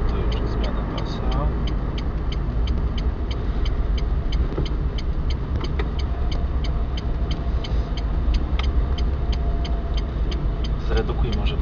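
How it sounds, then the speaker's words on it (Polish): Car engine lugging at low revs in too high a gear during a driving test drive in Kraków, a low, steady droning hum inside the cabin with a faint periodic ticking throughout. "Zredukuj może, bo tak dusimy strasznie ten silnik"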